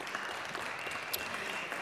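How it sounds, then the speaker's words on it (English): Brief, fairly faint clapping from people in the Colorado House chamber, greeting a visiting school group, Christian Core Academy from Fort Collins; steady, distant applause without voices. "So let's give a round of applause to Christian Core Academy out of Fort Collins."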